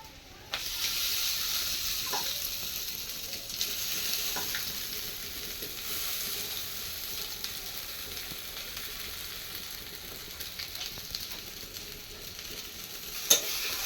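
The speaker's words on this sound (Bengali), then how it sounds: "এবার এই যে ঠান্ডা হয়ে গেছে চাউমিনটা, আমি এবার দিয়ে দিই কড়াই" Chowmein fries in a wok with browned onions, a soft continuous hiss and sizzle with occasional stirring taps, fairly quiet and without talk.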